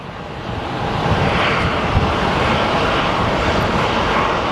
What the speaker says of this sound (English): there's a small plane landing, most likely an Ameriflight